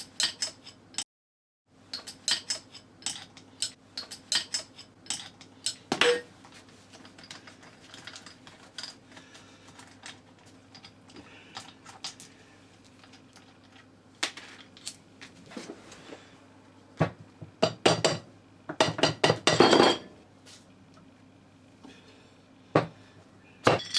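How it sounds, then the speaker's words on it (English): Workbench sounds while the rotating base comes off a low-cost mill vise: scattered metallic clicks, taps and ratcheting from tools and loose steel parts, with a dense cluster of clatter near the end; no one talks. "first of all I'll remove the rotating base."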